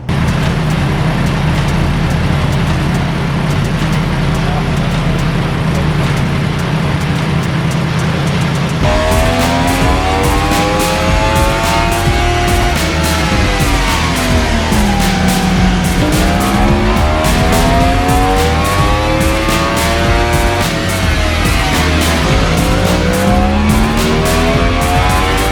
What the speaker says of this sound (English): let's go ahead and get the bike warmed up so we can do some baseline pulls